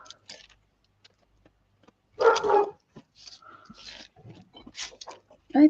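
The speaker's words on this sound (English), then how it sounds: "I don't know what he was barking about" Dog barking indoors, one clear bark and a few fainter yaps scattered among quiet moments and light household noises.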